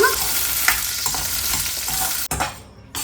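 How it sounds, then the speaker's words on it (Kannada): Drumstick pieces (moringa pods) frying in hot oil in a pan, a loud continuous crackling sizzle with stirring scrapes, a brief sharp clack, then the sizzle resumes close up. "ಇವಾಗ ಇದಕ್ಕೆ ನುಗ್ಗೆಕಾಯಿನ ಫ್ರೈ ಮಾಡಲಿಕ್ಕೆ ಸೇರಿಸೋಣ"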